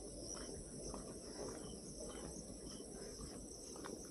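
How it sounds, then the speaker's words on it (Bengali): Crickets chirp in a dense, continuous high-pitched drone at a wooded canal-side bird-watching area under a cloudy afternoon sky, steady and moderately faint with no voices. "তোমরা শুনতেই পাচ্ছ কেমন ঝিঝি পোকা ডাকছে।"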